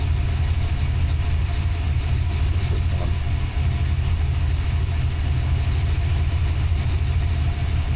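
A Ford Fox-body notchback with a fresh 363 engine idles steadily at close range, a continuous low rumble with no revving and no voices.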